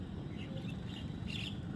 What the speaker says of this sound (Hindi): आज चिड़ियों को नहाते हुए देखा।